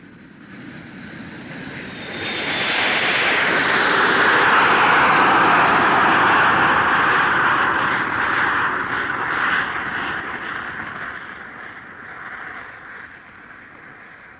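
Aircraft engines heard from the London Airport control tower in a radio play swell into a loud, roaring pass with a rising whine, then fade slowly over the remaining seconds, with no talk.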